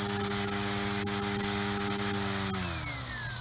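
An EGO 56V battery-powered string trimmer runs with a loud, steady high-pitched whine from its motor and spinning head, holding constant before the pitch begins to drop and fade as it winds down near the end.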